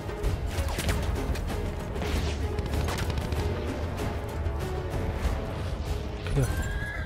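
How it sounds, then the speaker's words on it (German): A horse whinnies loudly near the end of this Battlefield 1 video game clip, with scattered hoof clatter and busy background noise earlier on. "Da ist ein Pferd, sehr schön."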